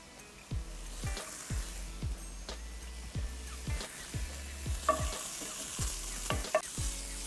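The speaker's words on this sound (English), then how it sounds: "And I'll add the bacon." Bacon frying in a pan for chicken pies, with steady close sizzling and repeated scraping stirs of a utensil in an even rhythm, no talking.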